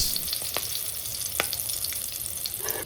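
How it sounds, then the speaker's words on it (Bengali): Whole garam masala sputters in hot oil for a mutton bhuna, a steady close sizzle broken by a few sharp pops. "এবার গরম তেলের মধ্যে গোটা গরম মশলা দিয়ে দেব দেখতেই পাচ্ছ এই গোটা গরম মশলা যখন একটু ফোটা বন্ধ হবে"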